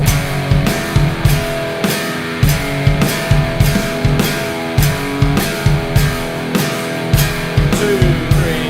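Heavy metal power chords on guitar crunch out a repeating riff over a drum beat, with sharp evenly spaced hits and ringing chords, loud and alone with no talk.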